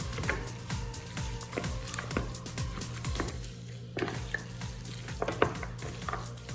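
Mutton being stirred in a clay pot gives a close, steady sizzle with rhythmic scraping and clinking strokes of a spoon against the pot, repeating every half second or so.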